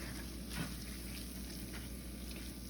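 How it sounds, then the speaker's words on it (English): Flour cooking in a pan to start gravy, giving a faint, steady, even sizzle that continues without pause and with no voices over it. "You want to make sure that you give your flour some time to cook."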